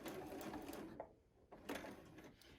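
Sewing machine running steadily during free motion quilting, with quick lock stitches, a brief pause, then a short resumption of stitching; close and fairly quiet.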